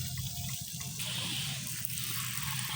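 Water pours steadily onto freshly planted cassava in a garden, a continuous close splashing wash that swells brighter partway through and runs without a break.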